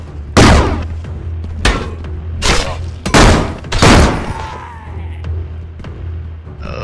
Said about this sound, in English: One of my favorite weapons, the gun sword.